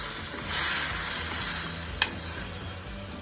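Semolina halwa being stirred in a pan after milk is poured in, giving a soft continuous sizzle with scraping strokes and one sharp clink near the middle, close and moderately quiet.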